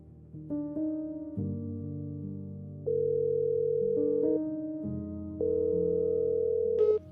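Electronic ringback melody on a phone call placed late at night, a sequence of steady synthetic tones stepping between pitches, clear and alone with no voices.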